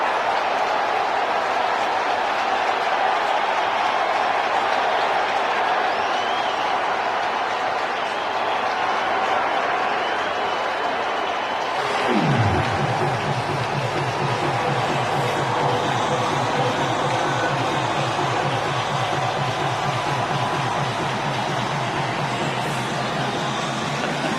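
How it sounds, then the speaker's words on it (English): A stadium crowd at a Mets–Padres playoff game rallies behind Francisco Lindor, a dense sustained roar that swells midway, with a rhythmic pulse of clapping or chanting coming in for the second half. "And now the crowd tries to get some support behind him."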